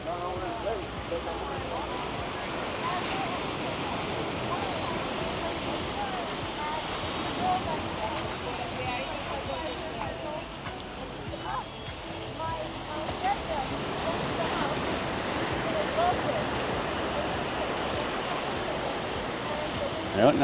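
Small, gentle ocean waves wash continuously onto Playa Bonita beach in Las Terrenas, Dominican Republic, a soft steady surf wash heard from the beach with wind and faint background activity.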